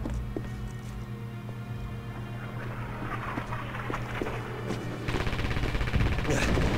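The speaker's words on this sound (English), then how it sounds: "A lot of PPSH fire coming out" Rapid PPSh submachine gun bursts and scattered rifle shots ring out in a video game firefight, with steady background battle noise and a louder stretch of gunfire near the end.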